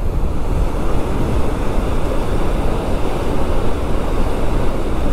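Strong Himalayan wind on a motorcycle ride in Spiti roars steadily and loudly into the microphone, a continuous rushing buffet with no voices.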